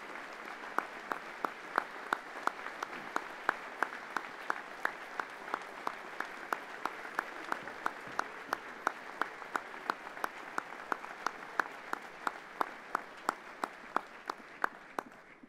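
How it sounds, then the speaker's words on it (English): Audience applause at the Naismith Memorial Basketball Hall of Fame reunion dinner, a sustained dense round of clapping from a large crowd with individual sharp claps standing out, steady throughout and fading at the very end. "please join me in one more round of applause for all of this evening's Hall of Fame award recipients"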